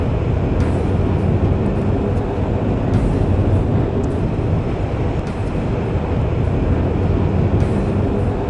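Steady, loud rumble of a train being driven in the video game Chaser, a continuous broadband roar with faint periodic clicks, no voices over it.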